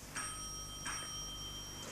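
Timekeeper's warning bell at a junior speaking contest: two bright, ringing bell strikes about 0.7 s apart, each decaying slowly, with a faint third ring at the end over quiet room tone.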